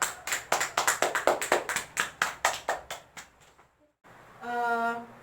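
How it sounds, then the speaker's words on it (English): Classroom applause from a small group, about twenty distinct claps in a quick steady rhythm that slows and fades, followed by a brief pause and then a short voiced sound. "give applause."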